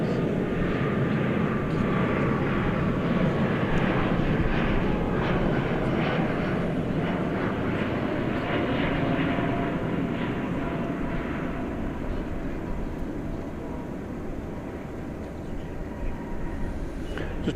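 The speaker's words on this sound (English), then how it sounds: "Airbus A380 coming in from the Twin Cities." A 23-year-old Airbus A380 airliner landing at DFW Airport at night, its jet engines a broad, steady roar that holds for the whole stretch and fades slightly at the end.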